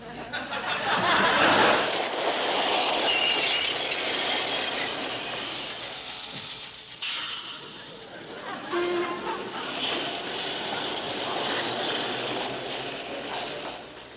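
A subway train rumbles and rattles along with loud, steady noise, wheels screeching at times, while people talk faintly underneath.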